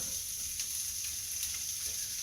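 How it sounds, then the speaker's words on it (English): Onions sauteing in a pan with browning bacon, a steady close sizzle with a few light stirring clicks over it and no talking. "now we're going to add our onions"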